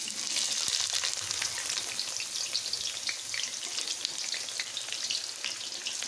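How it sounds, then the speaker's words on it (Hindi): Onions sizzle and crackle steadily in hot oil left over from frying okra, a dense continuous hiss with small pops, close and loud, no voices. "तो अब उसी ऑयल में हमने प्याज डालना है।"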